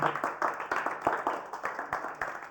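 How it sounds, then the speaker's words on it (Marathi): A small group claps for a first-place winner. The close, uneven hand claps come in quick, irregular bursts over a brief stretch. "सगळ्यांनी टाळ्या वाजवा त्याच्यासाठी"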